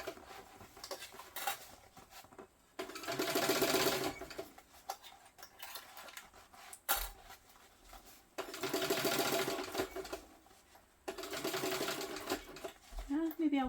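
A sewing machine stitches a garment lining in fast, buzzing runs of a few seconds each, separated by pauses with quiet handling of the fabric.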